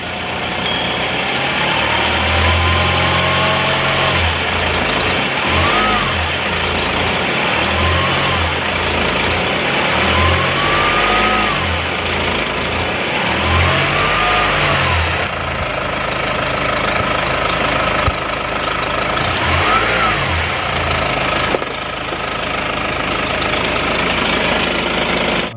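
An old 2.5L diesel engine idles loudly and rises in several revving surges, each swelling then settling back to a steady rumble, with no voices.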